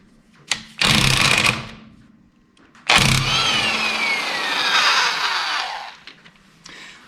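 Wheel coming off a 1984 Mercedes-Benz 300D, a power tool whirring loose the lug bolts in two bursts, the second longer and ringing down, close and fairly loud with no talk.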